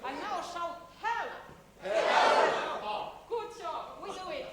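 A group shouts a single word together in a loud, brief communal burst, surrounded by a speaker's voice before and after.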